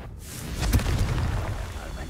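A fiery spell blast in Hogwarts Legacy: a deep, rumbling boom that swells to a sharp burst, then lingers as a crackling, roaring tail under a speaking voice.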